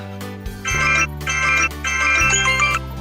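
An electronic ringtone plays close by, a repeating jingly melody in regular bursts with a low buzzing undertone.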